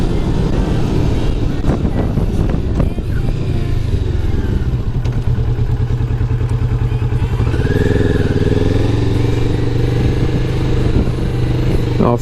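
A 2018 Kawasaki Vulcan S motorcycle accelerates hard, its engine roaring loud and steady close to the rider with wind rush, the pitch climbing as it gathers speed.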